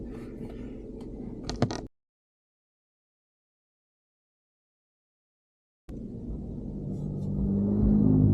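Car interior rumble while driving, a steady low road and engine drone that cuts out to silence midway, then returns and slowly swells louder.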